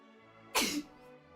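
A single sharp sneeze from someone nearby indoors during a live hobby painting session, with a quick breathy burst that fades within half a second over a quiet background.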